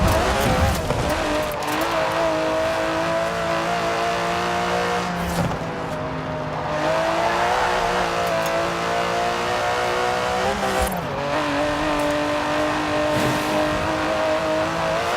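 An Aston Martin DB11 with a 5.2-litre twin-turbo V12 revs and pulls through the gears in Forza Horizon 4, its steady engine tone rising and falling with brief shifts and faint tyre noise throughout.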